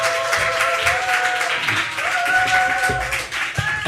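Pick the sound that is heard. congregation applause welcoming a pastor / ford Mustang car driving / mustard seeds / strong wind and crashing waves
congregation applause welcoming a pastor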